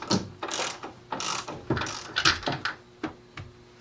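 A hand ratchet clicks in short, uneven bursts, close and fairly loud, as the strut top nuts come off a Volkswagen front strut, with pauses between strokes.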